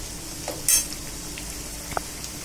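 Bitter gourd slices frying in a pan give a steady, faint sizzle with a brief louder crackle burst and an occasional light utensil tap, with no talk.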